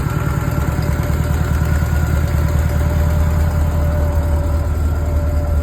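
A 1972 Volkswagen Type 3 engine, freshly installed, idles slightly high at a steady, loud, close rumble with a constant even pulse and no pauses.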